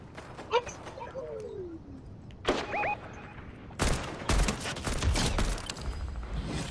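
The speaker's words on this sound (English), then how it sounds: "I'm getting shot at." Gunfire during a Fortnite squads match: clusters of sharp shots crackle in quick bursts, loud and close, mixed with other game noise while players talk.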